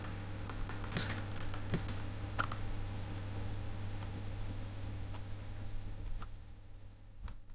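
Cisco switch commands are typed on a computer keyboard, giving a sparse scatter of faint keystroke clicks over a steady electrical hum.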